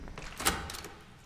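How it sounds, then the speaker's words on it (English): A door opens in a horror video game, one short scraping burst that peaks briefly near the middle of the clip over a low background rumble, with no talk. "It is challenging to open doors here."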